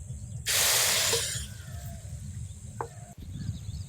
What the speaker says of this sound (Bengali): এই মাছ ভাজার তেলেই চিংড়িগুলো ভেজে নেব।